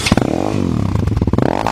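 Loud Crossfire dirt bike exhaust roaring up close, a rough, pulsing engine note with rapid rhythmic firing that rises and falls as the throttle is worked, alone without voices.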